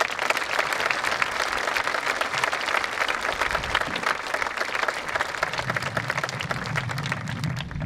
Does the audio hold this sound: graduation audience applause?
yes